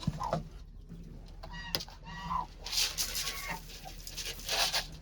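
A hen clucks in short, soft bursts close by while being fed grain and soaked rotis, with scattered rustling and faint background sounds between calls.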